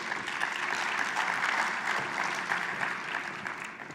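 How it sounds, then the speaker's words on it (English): Steady, dense applause from a conference audience at an education department lekgotla, filling the whole stretch at even loudness with no speech over it. "Let's give him a big hand of applause."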